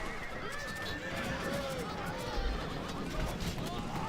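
Horses of Roxolani light cavalry neigh and whinny amid a chaotic battle din in the strategy game Europa Barbarorum, with hooves, clashing and crowd noise under continuous commentary.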